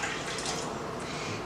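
Water pours steadily into a cooking pot, a continuous soft splashing and trickling rush, close and fairly quiet, with no talking.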